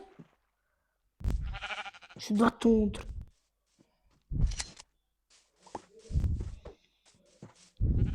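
Sheep in a video game bleat a few times, brief and nasal, while a person talks in between.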